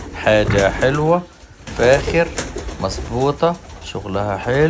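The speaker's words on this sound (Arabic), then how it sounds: "في حمام على الأرضية وفي حمام أنا حابسه" Young French meat pigeons coo in a loft holding 30 to 40 pairs, soft cooing running beneath someone speaking close by.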